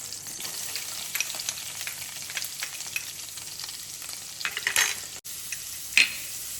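Plenty of chopped garlic frying in a spoonful of hot oil for a chicken stir-fry snack, a steady close hiss and sizzle with a few stirring scrapes and clinks.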